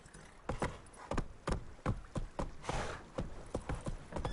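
The horse Roach in The Witcher 3: Wild Hunt walks with hooves clip-clopping in an even, close rhythm of roughly two to three beats per second over firm ground, with a brief rushing swell partway through.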